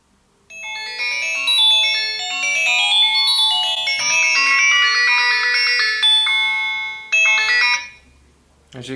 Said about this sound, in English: call the phone